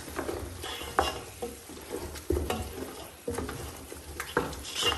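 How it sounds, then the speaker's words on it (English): Liver is stirred into a pot of dinner with tomatoes, a spoon scraping and clinking against the pot in repeated strokes over a soft sizzle of cooking food, close and clear with no talk. "So I'm going to just add it there and mix."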